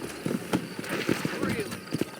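Horse hooves clip-clop in Red Dead Redemption as a sturdy horse walks out of town, a quiet, uneven run of soft thuds, with a voice speaking over them.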